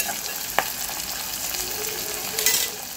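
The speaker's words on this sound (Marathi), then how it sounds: "आपल्या कांद्याला छान तांबूस कलर येईपर्यंत त्याला छान शिजवून घ्यायचं आहे" Chopped onions fry and are stirred in a pan until browned for a jackfruit biryani, a continuous close sizzle with scraping stirs and a couple of sharper clinks.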